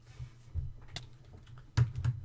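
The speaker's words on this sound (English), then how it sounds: "I'm sorry if you can hear like my keyboard and stuff, because I have my mic standing over right above it" A computer keyboard sits right beneath a microphone, giving a few scattered, sharp key clicks and thumps in irregular bursts, with a louder cluster near the end and no talk.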